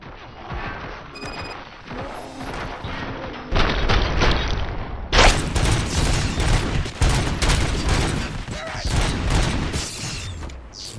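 Gunfire fills a battle in the video game RoboCop: Rogue City, dense bursts of shots and crashing impacts that grow louder and busier halfway through, with game voices underneath.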